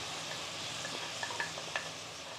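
Soft sizzling of crushed ginger and garlic frying in a pan, with a few light stirring clinks and taps, quiet and close, no talking.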